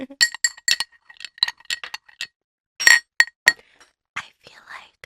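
Stirring a mocktail with ice in a glass: bright, close clinks and rattles of ice cubes against the glass in quick irregular clusters, pausing briefly, then a few softer clinks and faint rustling at the end.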